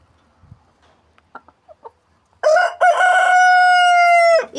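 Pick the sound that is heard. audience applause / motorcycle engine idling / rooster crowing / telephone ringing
rooster crowing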